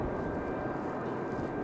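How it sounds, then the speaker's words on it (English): A Delta SkyWest Embraer E-175 jet sits at the end of the runway at Raleigh-Durham airport, its engines a steady low roar heard from a distance with no breaks. "So we do have a Delta E-175 out at the end of the runway."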